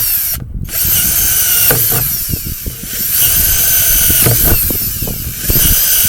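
A small handheld power drill bores drainage holes through a plastic plant container, several short whining bursts close by with brief pauses between them, in a garden setting for planting a fruit tree.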